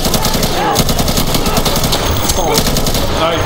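Rapid automatic gunfire from the Insurgency video game rattles in dense, continuous bursts, loud and close, with overlapping shots throughout and voices faintly mixed underneath.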